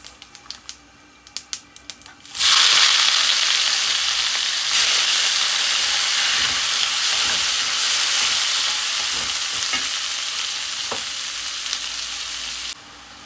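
Chopped onion hits hot oil in a pan for a fish-and-gourd curry, bursting into a loud, steady sizzle after a few soft knocks, then hissing continuously with occasional stirring clicks until it cuts off abruptly.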